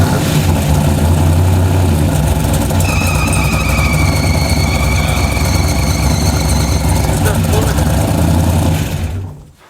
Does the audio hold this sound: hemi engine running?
yes